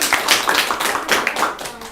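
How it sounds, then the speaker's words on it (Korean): A small audience at a church sermon claps for a young participant, with quick, uneven individual claps and some voices mixed in over a couple of seconds. "자, 우리 은유에게 박수해 주세요."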